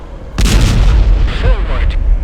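A tank cannon firing at a Shilka anti-aircraft vehicle in the ArmA Cold War Crisis game: one loud, booming shot with a long rumbling tail, followed by faint radio-like chatter.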